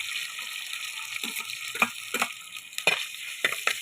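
Small onions fry in hot coconut oil in a pan. A soft, steady sizzle is broken by several louder scrapes and stirs, heard close with no talking.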